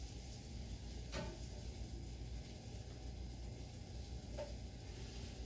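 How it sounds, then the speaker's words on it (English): Cauliflower toppers toasting on a hot skillet give a steady, quiet sizzle throughout, with two brief scraping knocks from a utensil along the way; no one talks. "we're going to just kind of get this kind of heated up on the skillet. That way we can kind of toast our cauliflower toppers, nice and crispy"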